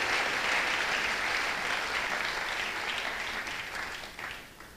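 A church congregation applauds and cheers in a dense, continuous wash of clapping that starts full and slowly thins toward the end.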